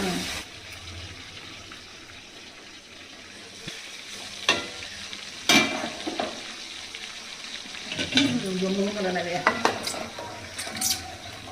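Gooseberries fry in oil over a medium flame for a pickle, giving a continuous close sizzle. Scraping stirs and a few clinks of a utensil against the pan break through the sizzle.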